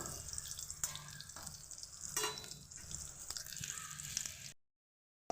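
Eggplant frying in hot oil over a high flame, a steady close sizzle with occasional sharper crackles and spatters throughout, ending abruptly in silence.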